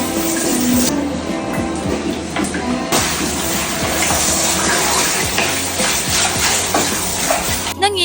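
Water sloshing and splashing in a bucket as a Pomeranian puppy is bathed and plays, with irregular close splashes and trickling under a steady wet wash.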